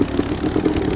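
A motorcycle engine in the video game Nether runs with a low, steady rumble and pulsing idle throb, close and continuous for about a second.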